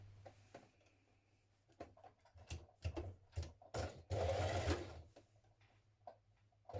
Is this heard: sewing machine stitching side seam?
yes